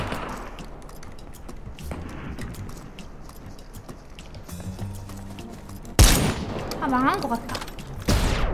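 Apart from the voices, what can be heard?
AK rifle gunfire in a video game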